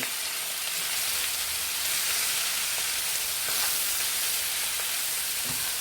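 Spinach being folded into a hot pan gives a steady, bright sizzling hiss with soft intermittent stirring scrapes, close up and with no one talking.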